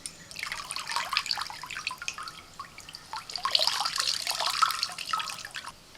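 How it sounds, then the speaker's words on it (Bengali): Whole mushrooms are washed under a running kitchen tap, with a steady close splashing and trickling of water and bursts of dripping and sloshing as they are handled. "গোটা মাশরুমটা ভালো করে ধুয়ে নিয়ে"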